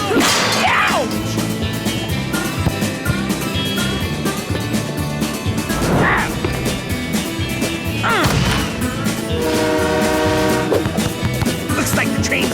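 A cartoon train rushes past in a busy soccer animation, its horn tooting in a sustained blast near the end amid clattering effects, music and character voices.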